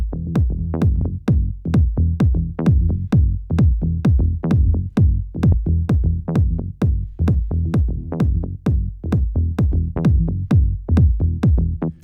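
Kick drum and bass grouped together and processed with a Max Bass plugin for extra low-end fullness, heard as a steady, loud run of booming low thumps in a driving electronic groove, with no talking.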